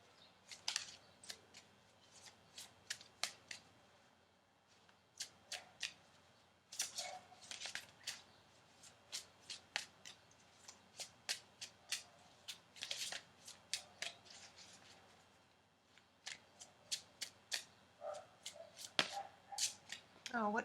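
Tarot cards being shuffled by hand in repeated bursts of crisp flicking and riffling, close and fairly quiet, with short pauses between rounds and a louder slap of cards now and then.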